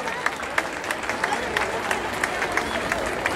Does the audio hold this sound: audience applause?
yes